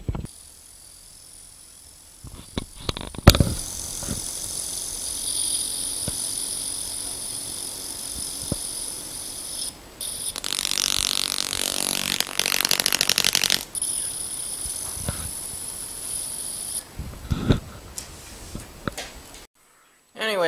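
A homemade homopolar motor built from two AA batteries spins with a faint, steady high buzz and scattered clicks, quiet and close, rising into a louder hissing rattle partway through.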